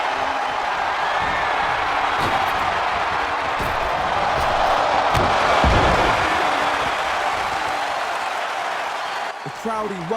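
Arena crowd in the WWE 2K24 wrestling video game roaring and cheering steadily throughout, with occasional impact thuds from the ring and a commentator's voice over the noise.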